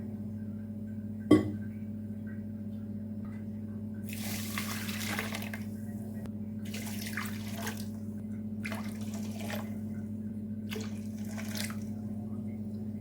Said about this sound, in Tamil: வெல்லத்துக்கு 4 கப்பு தண்ணி சேர்த்துக்கலாம்.